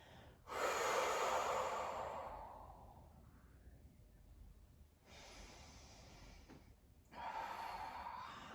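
Slow relaxed breathing during a gentle restorative seated yoga flow: a long audible inhale-exhale, a quiet pause, then further soft breaths, close to the microphone with no talking.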